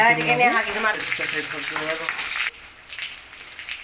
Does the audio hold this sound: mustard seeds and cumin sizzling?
yes